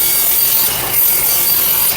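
Power saw cutting through wooden pieces for a toy tank, a continuous close and loud rasping buzz of the blade in the wood, with no voices.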